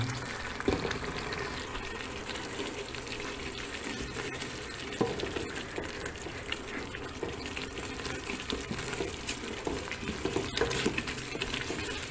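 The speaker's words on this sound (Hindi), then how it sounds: "अब हम थोड़ा सा इसको भून लेंगे मसाला जात को" Masala spices with turmeric roasting in a pan for a Lahori anda chanay dish, giving a steady, soft sizzle and crackle throughout with occasional stirring clinks and no talking.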